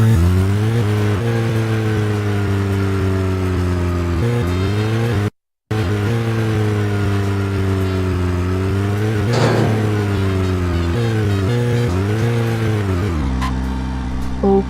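A car drives in the video game Deadly Premonition, its engine droning steadily with shifting pitch as it speeds up and eases off, loud and continuous, with a brief gap midway and no talking.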